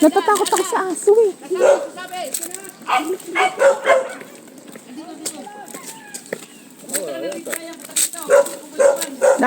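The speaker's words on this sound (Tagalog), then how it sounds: "Natatakot ako sa aso eh." A dog barks and yips near a riverside fishing spot beneath a hanging bridge, repeated sharp barks in bursts close by, with people talking and calling out in between.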